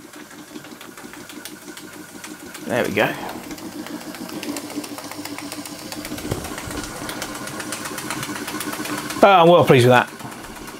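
A Märklin 4106/6 model steam engine runs with a steady mechanical whir and chuff under someone speaking, with water spitting from the exhaust and brief louder bursts.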